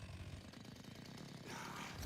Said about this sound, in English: With the chainsaw sword.